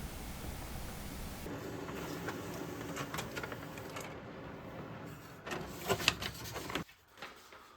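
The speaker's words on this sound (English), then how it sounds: "I'm just going to go ahead and hit the print button" A desktop printer prints a shipping label indoors: a steady, quiet mechanical whir with faint clicks, then a few louder clacks as the sheet feeds out before the motor stops.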